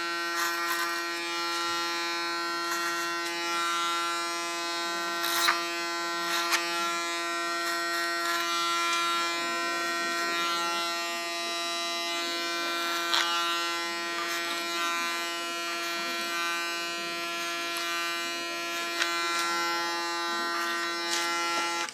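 Electric hair clippers cutting a woman's hair short along the back, a close steady buzzing hum with a bright harmonic drone and occasional brief changes in tone as the blade meets hair, no talk heard.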